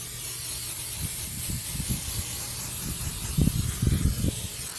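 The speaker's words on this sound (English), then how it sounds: "you want to just spray it with a little oil." A steady hiss of cooking oil sprayed from a can onto a Kamado Joe Big Joe grill runs throughout, with soft clicks and low handling noises near the end.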